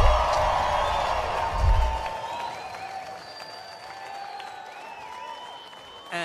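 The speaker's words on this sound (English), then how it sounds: "I need you to show them what a River Center crowd sounds like. I need you to make some noise." Arena crowd at a Caged Aggression fight night cheers and applauds: a broad, steady roar of clapping and crowd noise, loud at first and settling into a sustained wash with faint whistles and tones above.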